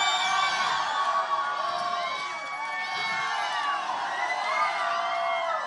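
A NASCAR trackside fan crowd cheers and shouts steadily throughout, a dense, loud wash of many voices with whoops rising above it and no gaps.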